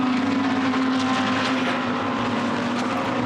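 A Lamborghini GT race car in a Blancpain GT Series Endurance Cup race at Monza roars past, a loud, steady, high engine drone that fills the whole moment without a break.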